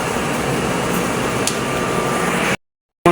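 Smart 6 ft single-head sublimation printer running a nozzle test, giving a steady, loud mechanical whir and hum that runs unbroken for about two and a half seconds before cutting off.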